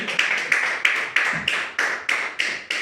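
Steady, evenly spaced claps at a church gathering, a sharp beat roughly three times a second, fairly close and without voices over it.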